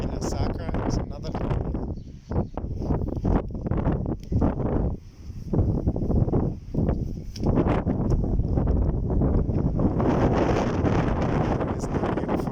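Wind blows hard across the microphone at a lighthouse on the Costa Brava, Spain, as a loud, steady roar and buffet that goes on for the whole stretch while a voice talks over it.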